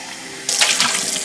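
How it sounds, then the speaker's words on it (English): Tap water rinsing an Egg Tastic egg cooker, a sudden steady splashing stream that starts partway in and keeps running close by without any voices. "Actually, it's best to rinse it."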